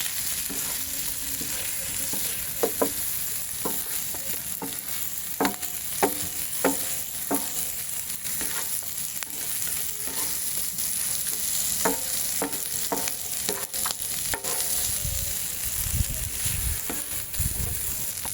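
Goat intestine fry (kudal varuval) with pepper powder sizzling steadily in a pan, with repeated scraping strokes of a stirring spoon in an uneven rhythm throughout, close and continuous, no talking.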